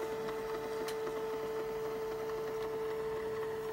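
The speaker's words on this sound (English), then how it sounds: "You hear that? It's rewinding." A camcorder rewinds its tape with a faint, steady motor whine and a soft mechanical rustle that runs evenly through the clip with no voices.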